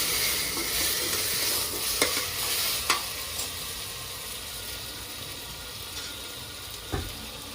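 Ginger, garlic and green chillies sautéing in a pan, a continuous sizzle with several distinct clinks and scrapes of a spoon against the pan, nearby and with no one speaking.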